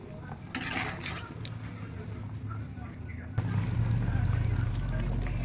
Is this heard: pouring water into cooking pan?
yes